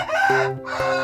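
A red backyard village chicken gives a short, loud call up close, two quick harmonic bursts over about a second.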